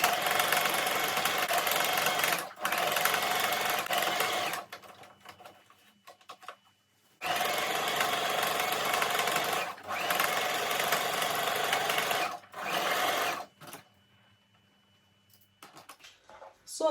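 Sewing machine stitching fabric for a double rose turban, running in loud close bursts of a few seconds each, separated by short pauses and quiet gaps.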